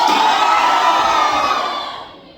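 A large crowd at a stage event in Hassan cheering and shouting loudly at close range, a dense roar of many voices that holds steady and then fades out over the last second.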